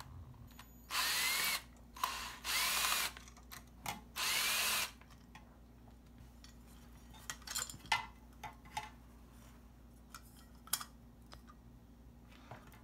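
A power drill opening up a projector lens fires in several short, loud, close-up bursts, then gives way to quieter clicks and handling noises.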